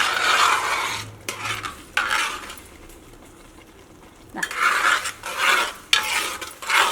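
A spoon stirs jaggery through cooked dal in a pot for Onam payasam, making bursts of rhythmic scraping and sloshing strokes with a quiet pause in the middle.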